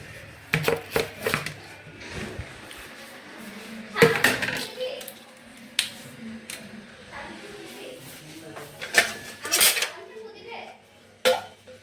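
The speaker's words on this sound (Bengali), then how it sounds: "প্লেট সব গুজগাছ করি" Plates, dishes and cooking pots are tidied away in a home kitchen with a series of clattering knocks and clinks, a few sharp and loud, under quiet intermittent talk.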